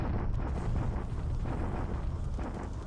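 An Allied bombardment of Toowoomba in the War in the Pacific strategy game rolls on as a dense, continuous low rumble of massed explosions, steady and heavy throughout with no pauses.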